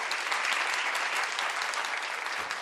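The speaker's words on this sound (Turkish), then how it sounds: "Alkış yok mu bu cevaba?" Steady audience applause from a crowd, dense and continuous throughout at a moderate level, with no voices rising above it.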